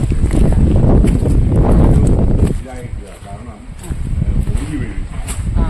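Wind gusts loudly outdoors near Niranam Church in hot weather. It buffets hard for the first half, then eases to a softer rush with faint voices in the background.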